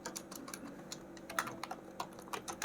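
Rapid, uneven keystrokes clatter on a computer keyboard while inline CSS code is entered, close and fairly quiet, with short bursts and brief pauses and no talking.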